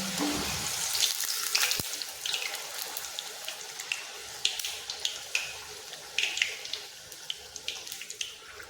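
Kadakani dough fries in hot oil over a medium flame, a faint crackling sizzle scattered with small sharp pops.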